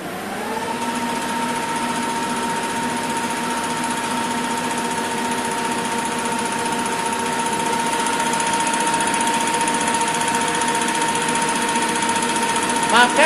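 A Siemens 808 CNC lathe starts running after cycle start, holding a loud steady mechanical whine with a sustained tone throughout and a couple of clicks right at the end.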